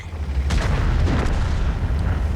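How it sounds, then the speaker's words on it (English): A French AMX M4 49 Liberté heavy tank in World of Tanks fires on a T-34 amid battle noise. Booming low rumble dominates, with a sharper report near the middle, loud and continuous, without speech. "Auto aims and puts a nice shot into the hull of the T-34."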